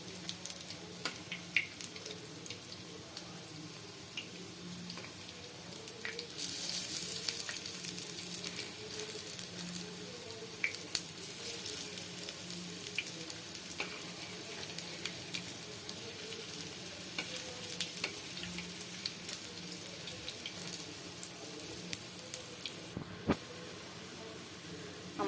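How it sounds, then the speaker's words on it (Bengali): Masoor dal fritters (lentil bora) fry in oil with a quiet, continuous sizzle, dotted with small clicks and taps as they are turned one by one. No one speaks. "আমার ডাউলের বড়াগুলা প্রায় ভাজা হয়ে আসছে।"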